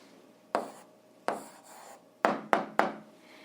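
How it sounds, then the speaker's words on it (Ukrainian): Pen strokes on paper while an algebra answer is written by hand, five short scratchy marks in uneven rhythm, close and quiet with no talking. "записуємо відповідь, пишемо відповідь"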